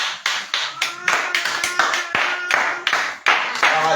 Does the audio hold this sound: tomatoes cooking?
no